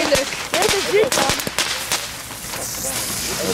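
Fireworks go off outdoors in Apeldoorn, with a rapid string of sharp cracks and pops over a noisy background while people talk and shout nearby.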